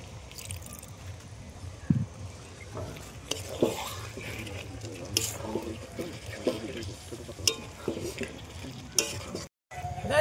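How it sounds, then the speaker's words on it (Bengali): Water poured into a pan of alu dum curry frying on a village stove, giving a soft continuous sizzle with stirring scrapes and small clinks, fairly quiet, with a brief silent gap near the end. "জল দিয়ে দেবো আমরা কিছুটা।"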